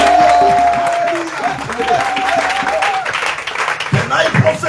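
A church congregation applauds and cheers the king of kings during a worship and prophecy service, sustained clapping and crowd noise mixed with voices calling out.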